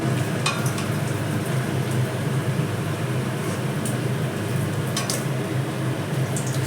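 Stuffed pointed gourd (kakrol) frying in hot oil gives a steady, even sizzle and crackle throughout, with a few faint clinks of utensils and no talking.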